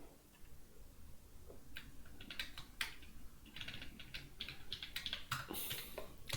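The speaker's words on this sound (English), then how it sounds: "I'm typing a very bad position with my knee here on the top." Someone types on a computer keyboard from an awkward position, making quiet, irregular clicks and taps in short bursts against a faint background hush, with no voices.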